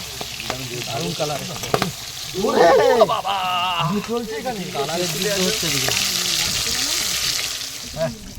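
Freshly caught Sundarbans river fish, rita and tengra, sizzle and spit as they fry in a pan, a steady close crackle with stirring and several voices talking over it.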